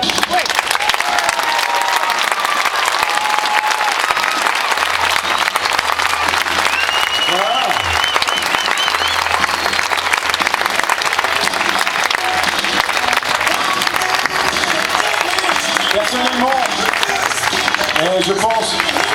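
A rodeo crowd at the Equiblues 2009 finale parade applauds the performers in a dense, loud, continuous roar of clapping and cheering that never lets up for the whole span.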